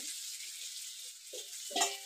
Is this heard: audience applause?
no